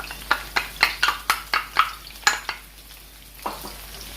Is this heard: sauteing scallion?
yes